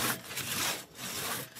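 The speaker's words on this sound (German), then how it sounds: "Jan Vockel und Azubi Luke sägen wieder von oben bis zur Mitte des Stammes." Two people working a long hand saw down through a tree trunk from the top toward the middle, traditional timber sawing; steady rasping back-and-forth strokes, close and loud, with brief pauses between pulls.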